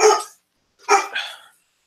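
Dog barking indoors, two sharp barks close to the listener, the second a doubled woof, separated by a brief silence.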